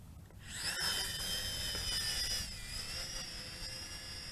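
A Snaptain SP660 quadcopter spins up and lifts off, its rotors rising into a thin, high buzzing whine that stays fairly steady and close, with the pitch wavering slightly as it hovers.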